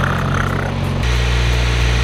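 A project car's engine idles smoothly nearby with a faint ticking from the injectors over the steady low hum, which shifts slightly in pitch midway; no talking.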